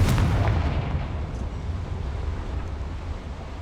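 Confringo spell blast in the Hogwarts Legacy video game, a loud booming explosion with a sharp onset that rolls into a long, heavy rumbling decay filling the whole clip.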